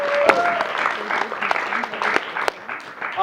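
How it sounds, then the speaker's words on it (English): A college theatre audience at Pomona College applauds the cast after a show, with steady sharp clapping over most of the moment and a voice talking over it. "let's give them another round of applause."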